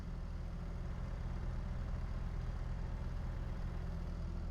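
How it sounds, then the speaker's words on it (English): A farm tractor idles steadily outdoors, a low, even diesel rumble that holds constant throughout with no talk over it. "And let's get the tractor"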